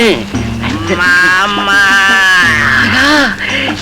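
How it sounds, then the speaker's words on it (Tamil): A loud, drawn-out cow moo close by, rising and falling in pitch, followed by a second bellowing call after a brief pause. "பக்கத்திலேயே இன்னொரு மாடு கத்துற சத்தம் கேக்குது."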